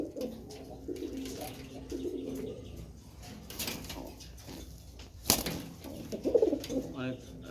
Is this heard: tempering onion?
no